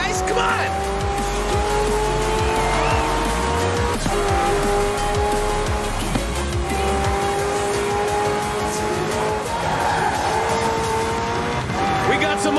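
Racing cars and trucks roar and screech in Forza Horizon 4, engines droning loudly with repeated tire squeals and skids throughout, and a voice speaking over the din.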